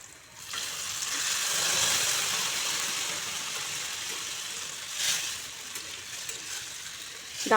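Cooked mixed dal poured into hot tempering on a high gas flame, a loud hissing sizzle that swells, then settles into a steady frying sound with brief flare-ups and stirring clinks.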